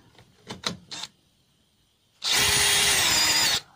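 Cordless screwdriver running in reverse to loosen nuts through a socket adapter: a single steady motor whir of about a second and a half, close and loud, after a few light handling clicks.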